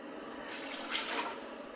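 Water streams steadily into a soup pot on a home stove for a bean soup, a continuous broadband splashing pour that swells briefly in the middle and runs for about a second and a half with no talking.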